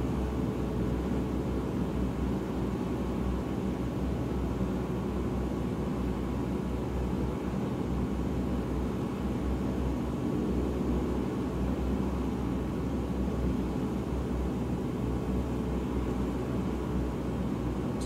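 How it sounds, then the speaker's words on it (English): A DHC-4 Caribou in Microsoft Flight Simulator 2020 cruises with a constant low engine drone and airy rush, steady and unbroken throughout at moderate level, with no voices. "this is a fun cruising plane, and I'm probably going to fly it a lot and have a lot of fun with this aircraft"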